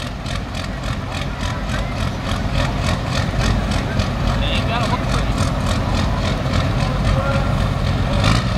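A pulling tractor in a heavy class at a farm stock tractor pull revs high and steady, a loud rumbling engine roar that holds for several seconds, with an announcer talking over it.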